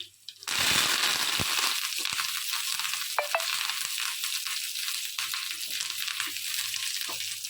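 Curry leaves and tempering spices hit hot oil in a pan, bursting into a loud, steady sizzle that starts abruptly and crackles on with a few sharp pops throughout.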